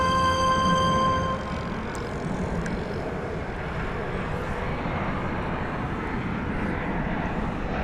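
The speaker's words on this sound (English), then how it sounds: "you'll get to hear what it really sounds like at an airport" Steady roar of jet airliners at DFW airport, a broad continuous engine rumble with a brief tonal whine at the start, loud and sustained throughout with no talk.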